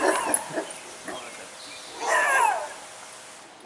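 Several dogs, including a big white one, give yips and whimpering barks at moderate distance, scattered through the stretch with a louder burst of yelping near the end, and no talk over them.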